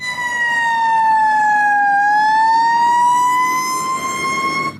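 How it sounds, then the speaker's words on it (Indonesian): A toy fire engine's siren wails loud and close, one long falling-then-rising electronic tone held for about five seconds on its own. "yang ini pemadam kebakaran"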